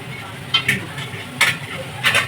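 Meat curry sizzling in a pan while being stirred, a steady frying hiss close by, broken by three scraping stirs about a second apart.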